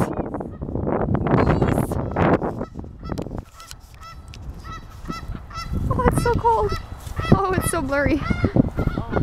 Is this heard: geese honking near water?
yes